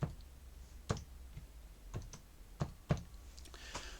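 Keys tapped on a computer keyboard to enter a short word into laser engraving software for a custom stamp, a handful of sparse, quiet clicks spaced irregularly over low room noise.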